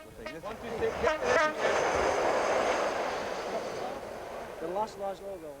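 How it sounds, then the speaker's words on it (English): A train rumbles past close by while a horn sounds several times, with voices talking faintly over the noise. "the train drivers always hoot a hello"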